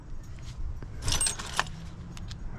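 Brass keys jangle and clink while being sorted among non-ferrous scrap metal, a close, bright metallic rattle in short bursts with a distant vehicle rumble underneath.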